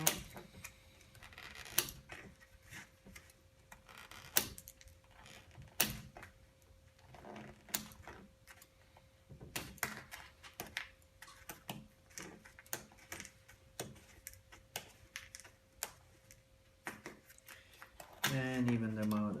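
Sharp clicking snips of wooden toothpicks being cut while assembling a UGears UGM-11 truck wooden model kit, scattered irregular cuts close up over low background noise, with a louder handling clatter at the end.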